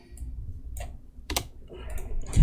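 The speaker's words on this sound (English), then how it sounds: "I'm typing everything in this chat here" A computer keyboard clatters with a few irregular keystroke clicks, scattered and close, against a quiet low hum.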